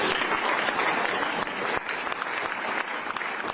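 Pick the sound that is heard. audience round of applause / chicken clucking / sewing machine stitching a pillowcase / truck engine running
audience round of applause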